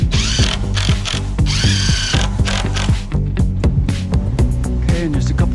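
A power drill drives screws up through a secondary top plate into a wall top plate in wood wall framing, with repeated short whirring bursts of motor and clicking mechanism heard up close and loud.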